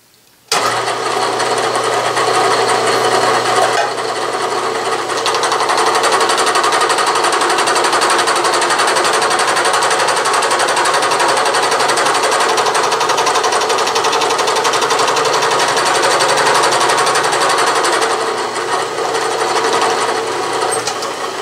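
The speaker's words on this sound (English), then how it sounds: "Now I'm ready to cut the first tooth because everything else has been set." Bridgeport milling machine cutting gear teeth with a dividing head, starting abruptly into a loud, continuous high-pitched whine and grinding hum that holds steady throughout, close by with no talking.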